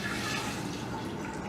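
Distilled water pours steadily into a graduated cylinder in a lab while buffer is prepared, a dense continuous gurgling splash throughout, close and without talking.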